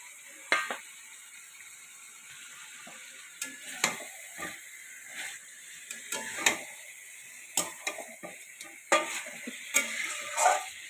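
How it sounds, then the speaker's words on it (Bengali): Chicken with ground cumin and chili powder frying quietly in oil, a soft low sizzle broken by scattered clicks and scrapes of a spoon stirring the pan. "চিকেনটাকে ভালো করে একটু ভেজে নেব।"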